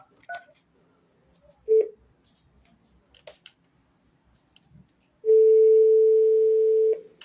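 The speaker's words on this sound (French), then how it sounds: "Donc ça sonne, mais qu'est-ce que je vais dire, moi, après?" Telephone dialing from a phone to a public call box: scattered short keypad tones, then a long steady ringing tone lasting nearly two seconds, clear and close.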